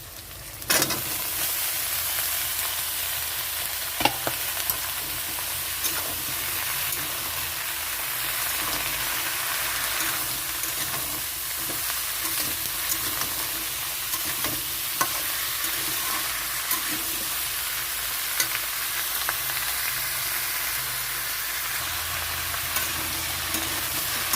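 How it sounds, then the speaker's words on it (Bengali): Chopped vegetables frying with lightly fried onion and green chilli in a pan, a continuous loud sizzle with occasional scrapes and clicks of stirring, no voices. "এখানে আমি দিয়ে দিচ্ছি কেটে রাখা সবজি।"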